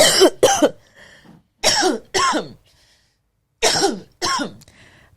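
Three pairs of harsh, close coughs, separated by short quiet pauses.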